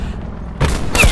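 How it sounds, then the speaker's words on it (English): A sniper rifle fires twice in Call of Duty: Black Ops 4: two sharp, loud, close shots about half a second apart, each a hard crack with a brief booming tail. "Sniper firing."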